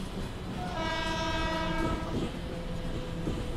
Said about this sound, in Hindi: लोकल ट्रेन कितना चिल्लाती है भाई